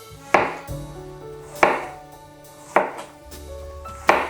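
A knife cutting through an onion on a cutting board, four sharp close chops spaced about a second apart, with no voices.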